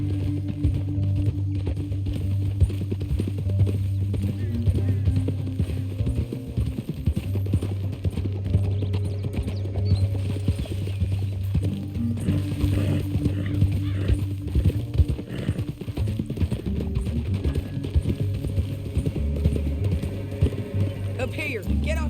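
Horses' hooves clip-clop steadily at a trot over a constant mechanical background in Red Dead Redemption II, with an occasional whinny and some voices mixed in.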